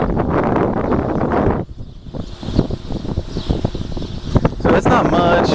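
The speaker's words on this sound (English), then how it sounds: "Oh yeah, wind picked up there." Wind gusts outdoors around a homemade wind turbine generator, roaring and buffeting the microphone in a steady rush that briefly drops before picking up again, with a voice talking.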